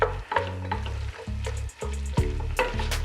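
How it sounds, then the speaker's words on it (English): Ground turkey browning for chili in a hot pan, a steady loud crackling sizzle with scraping stirs and knocks from a utensil, close up and with no talk. "So we're gonna let that cook for a bit, get browned up."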